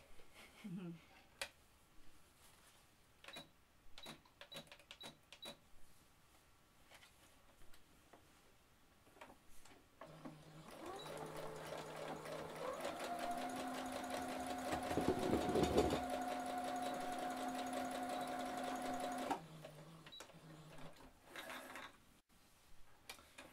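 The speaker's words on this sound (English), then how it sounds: "Do a zigzag on the end and then add the straight stitch on the inside of the zigzag towards the bag." A sewing machine runs a steady, continuous stitch across a fabric wine bag, zigzagging along the end and then sewing a straight seam inside it, preceded by scattered clicks and handling sounds.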